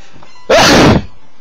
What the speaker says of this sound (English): Sorry about that, I had to sneeze.